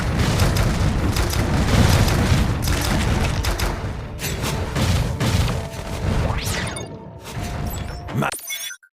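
Grenade blasts in the Iron Marines strategy game, with repeated booming explosions and shattering crashes amid constant battle din, ending in a sharp final burst before cutting to silence.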